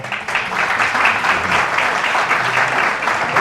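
Applause from a conference audience in Benidorm, a steady, full wash of clapping that holds at even strength from start to finish.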